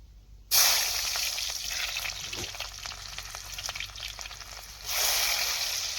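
Onions dropped into hot oil in a pan burst into a loud, steady sizzle that carries on evenly, then rises again near the end as more is stirred or added.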